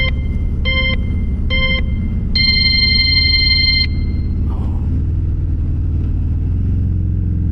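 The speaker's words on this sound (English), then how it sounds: "I miss riding the Fat Bob. It is a blast, especially with the exhaust note." A Harley-Davidson Fat Bob motorcycle rumbles loud and close while being ridden, its deep engine and exhaust note steady throughout, with a few electronic beeps sounding over it early on.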